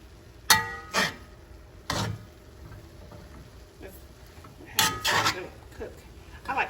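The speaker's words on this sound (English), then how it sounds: "Stir it up. I needed a good stir" Cabbage being stirred with fish sauce in a pan, a utensil scraping and clinking against the metal in a few sharp, irregular strokes over a low background hum.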